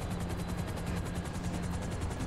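Helicopter flying in GTA 5, a continuous loud rotor whir with fast even chopping pulses and a steady engine drone, no voices.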